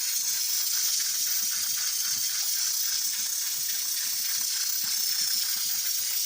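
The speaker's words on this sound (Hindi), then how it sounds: "इधर कुकर में बन रहा है लोबिया, शोर मचा रहा है" A pressure cooker cooking lobia (red beans) hisses loudly and continuously, a strong sustained steam noise with a faint rattling flutter underneath.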